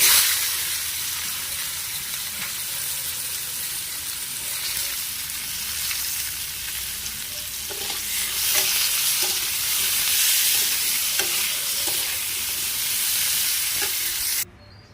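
Potatoes, cauliflower and carrots fry in hot oil in a pan, a steady loud sizzle with occasional stirring clinks and scrapes, no talking.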